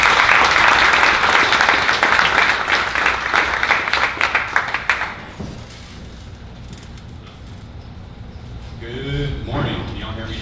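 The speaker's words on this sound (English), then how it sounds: "we start with a round of applause for all of our presenters" Loud applause from an audience at a 1 Million Cups Dallas event fills the first half, fading out as clapping dies down, followed by quieter room noise and a voice beginning to speak.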